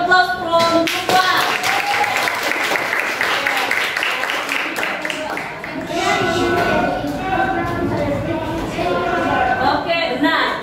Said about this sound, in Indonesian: Give applause from Siva